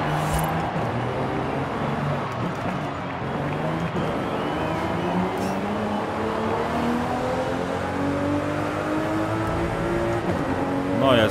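A car engine drones and rises in pitch as the car drives in Forza Horizon 5, a steady game engine note that climbs with acceleration under constant background noise.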